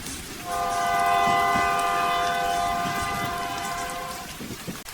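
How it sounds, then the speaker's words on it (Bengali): A train pulls into a village station and sounds a long, steady horn over the rumble of the moving carriages, then the noise settles as it comes to a stop. "ইতিমধ্যেই ট্রেন এসে থামল"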